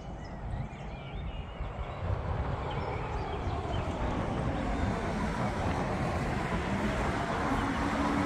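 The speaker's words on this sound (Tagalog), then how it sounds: "Biglang humangin." A sudden gust of wind outdoors rushes and roars into the microphone, building within the first couple of seconds and then blowing steadily and loudly for the rest of the clip.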